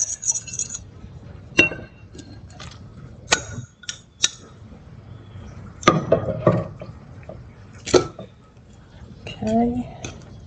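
Peach batter pudding batter being mixed in a bowl: scattered clinks and scrapes of utensil against the bowl, close and intermittent, with soft talk between strokes.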